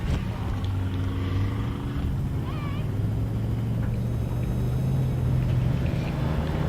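An Ultra4 off-road race car passes a start-finish area during the Big Sky 200 race, a steady engine drone that holds loud and close across the clip, with a slight pitch sweep as it goes by.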